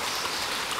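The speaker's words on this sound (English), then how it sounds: "let's just walk out to the beach and walk through this little river" A small seasonal river running across a beach at Cabo Blanco, Costa Rica, with steady broadband water rush and hiss filling the short moment, fairly close and continuous, no voices.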